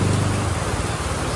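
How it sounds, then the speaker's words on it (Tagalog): Heavy rain falls in a steady, dense roar close by, with a low rumbling undertone and no voices. "At inabutan na tayo ng ulan."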